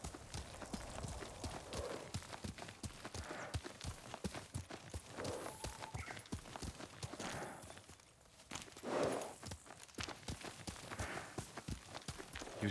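Horse hooves clip-clop in a quick, uneven rhythm, fairly close, over a busy background of other game sounds from Ghost of Tsushima, with no clear speech.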